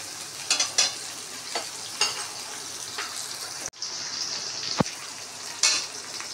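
Steady sizzle of onion frying in a pan, with occasional scraping stirs and a brief clatter near the middle. No voices.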